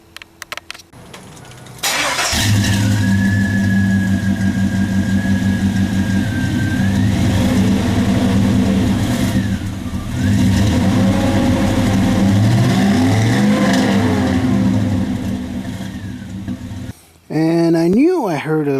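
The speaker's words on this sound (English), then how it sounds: "I went ahead and recorded the truck with the stock manifold and this stock air" A 2000 Chevrolet Silverado SS truck's engine with the stock intake manifold cranks and fires, then idles loudly and steadily with occasional rises in revs before cutting off, followed by a brief voice.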